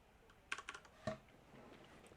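A handful of quick keystrokes on a computer keyboard, typing a command in the vi editor, close and soft, a brief cluster of clicks followed by one firmer key press, then quiet.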